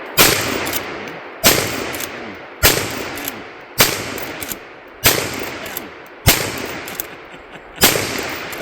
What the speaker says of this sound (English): I just shot the balls off a squirrel.